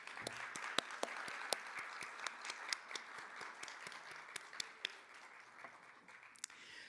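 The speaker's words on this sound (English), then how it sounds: "let us give you a round of applause" Faint, scattered clapping rises from an audience at a university diversity showcase, with individual hand claps standing out sparsely against a soft wash of applause.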